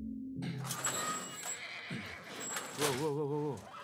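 A horse whinnies in The Last of Us Part I, a wavering, tremolo neigh rising near the end over soft game ambience, preceded by brief low tones and muffled movement.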